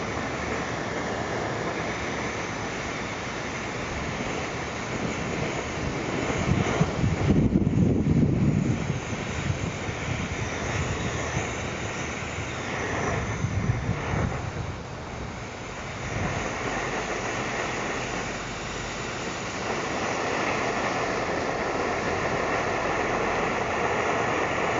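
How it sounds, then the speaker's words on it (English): Edelrid Hexon multi-fuel stove burning kerosene through a small jet while warming up, giving a steady, close roaring hiss that swells briefly in the middle and stays loud throughout. "I can see this is going to be a difficult stove to work with kerosene, with this size jet."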